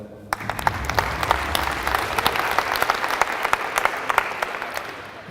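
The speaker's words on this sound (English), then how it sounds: "I just want to give you all a round of applause for that." An audience applauds, many hands clapping with sharp individual claps standing out from a dense patter, sustained for several seconds at a steady, moderate level.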